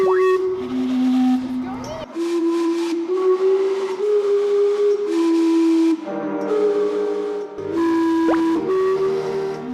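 A public steam clock in western Canada vents steam while its whistles play a tune, producing continuous loud, bright tonal notes that change pitch in steps over a steady hiss.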